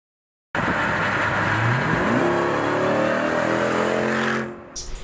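A Jeep Grand Cherokee Trackhawk with a supercharged 6.2-liter V8 accelerating hard, its loud roar climbing steadily in pitch for about four seconds before cutting off abruptly. Close and sustained, with no talk.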